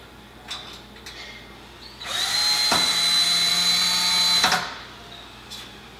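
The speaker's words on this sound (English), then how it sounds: "So you're going to take your self-tapping screws, cordless screw, driver," Cordless screwdriver driving a self-tapping screw while fitting stainless steel strap eyes on a pontoon boat bimini top: a single steady whirring burst of about two and a half seconds, close and fairly loud, between quiet handling noises.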